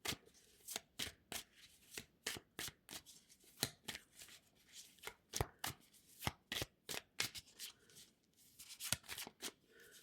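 Tarot cards being handled and shuffled close up, a quick series of crisp riffling and slapping bursts in an irregular rhythm, faint and alone with no talking.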